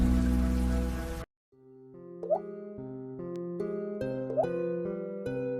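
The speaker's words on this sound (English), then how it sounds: "When the rain finally came to a stop, Striding Bird was miles away" Rain sound effect from a storybook app, a brief burst of dense hiss that cuts off abruptly, followed by soft plopping drips over gentle sustained musical tones, with no voice.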